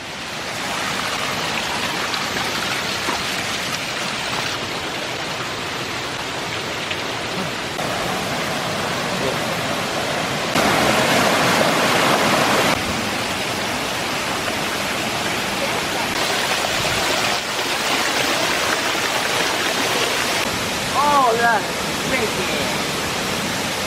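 Steady broadband rush of a waterfall at Rock Island State Park, Tennessee, filling the whole clip with a close, continuous roar that swells louder in places, with faint talk and brief chirps mixed in.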